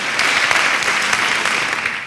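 Steady, dense applause from a comedy show audience, sustained and fairly loud throughout without a break.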